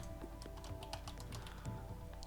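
Computer keyboard keys tapped in quick irregular bursts during a livestream of a modded Minecraft pack, Enigmatica 2, close and fairly quiet, with no voices.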